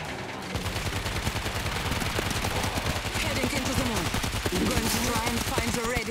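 Machine gun fire in the video game World War Z, Moscow level, a dense rapid rattle of shots running throughout with chirpy game sound effects layered over it.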